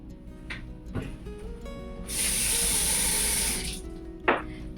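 A kitchen sink tap gushes in one steady, loud stream for almost two seconds, set between soft clinks of dishes being sorted for washing.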